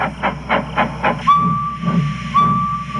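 A steam engine puffs in a series of rhythmic chuffs, then gives two loud, sustained whistle blasts over a steady hiss of steam. The sound is close and prominent.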